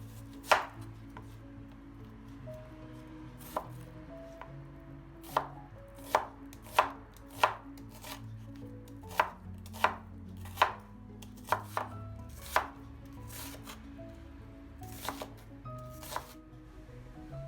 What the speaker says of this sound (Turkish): Şimdi soyduğumuz soğanları yarım halka şeklinde doğruyoruz.